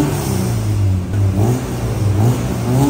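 A 1999 Honda Civic SiR fitted with a chambered muffler revs steadily up close, its mid-pitched engine drone rising and falling over a few seconds with no talk.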